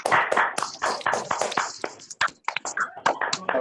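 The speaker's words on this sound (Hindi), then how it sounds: "सबसे रिक्वेस्ट है सब अनम्यूट करके ताली बजाएं" Participants on an unmuted video call clap together for a virtual website launch, a dense, uneven patter of many hands overlapping at different volumes, some louder and closer, fading slightly toward the end.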